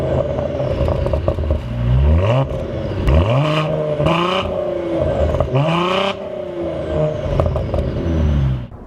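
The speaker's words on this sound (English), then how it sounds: "This isn't a bad sounding engine by any means." Cadillac ATS-V twin-turbo six-cylinder engine revs hard through several rising sweeps, with gear changes and throttle blips breaking each climb, loud and close, with no voices.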